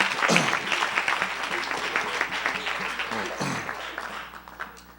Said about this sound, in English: Give Joseph a hand clap